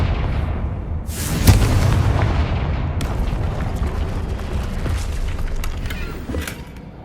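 A Confringo fire spell blasts in Hogwarts Legacy gameplay, a heavy booming explosion that rolls on with a long crackling, rumbling tail and a few scattered debris bursts, loud and sustained throughout.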